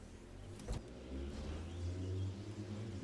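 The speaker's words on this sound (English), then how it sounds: "That's a car." A car drives past on a road, a low engine rumble swelling and fading over a few seconds, moderately close with no talk.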